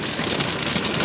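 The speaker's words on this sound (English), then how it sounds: "It's hail." Hail pelts down hard and without a break during an afternoon thunderstorm, a loud, dense drumming rattle of stones striking outdoor surfaces close by.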